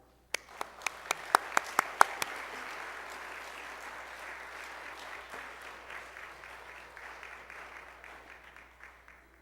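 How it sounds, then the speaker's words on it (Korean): A Korean church congregation applauds to welcome the pastor: a few sharp single claps start it, then broad crowd clapping swells and holds, slowly thinning toward the end. "Let's give him big hands, okay, to welcome him."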